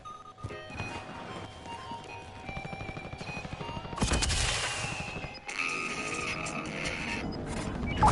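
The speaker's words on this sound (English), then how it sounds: "There's a guy who's shooting at me over here." Rapid gunfire in a shooter video game, with repeated close bursts of automatic shots rattling on throughout and a louder, denser stretch of blasts midway.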